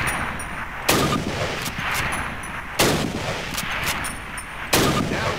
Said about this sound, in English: Move to the fence and fire 2 rounds at your target.